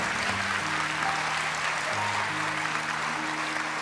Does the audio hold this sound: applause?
yes